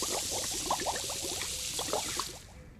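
Lightning potion being poured into a forge mold in a video game: a steady liquid glugging and trickling under a bright hiss, bubbling sounds scattered throughout, then fading out near the end.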